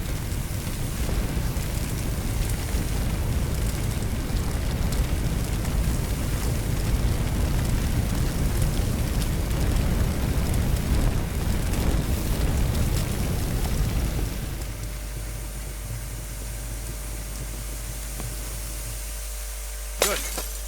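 In the Firefighting Simulator video game, an attack hose sprays water at a fire with a loud, steady, broadband hiss and roar for most of the time. It then cuts off to a quieter hum with a faint click at the end.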